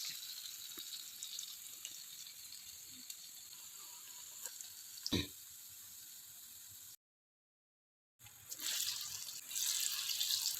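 Masala vada fry in hot oil over a medium flame, making a steady hissing sizzle up close. The sound cuts out briefly to silence, then returns louder and fuller.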